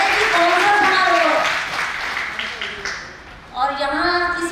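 Audience clapping at Raj Bala's retirement ceremony, a sustained rumble of applause running beneath a voice that speaks over it, fading mid-clip before the talk rises again.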